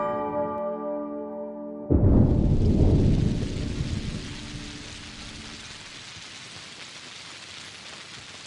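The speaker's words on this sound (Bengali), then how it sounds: "এই দেখো আবার বৃষ্টি শুরু হয়েছে।" Steady rain falls after a loud thunder crack, the downpour a dense, even hiss that fades slightly and continues alone with no voices.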